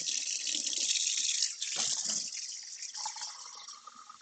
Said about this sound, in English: So I'm just going to run hot tap water into this.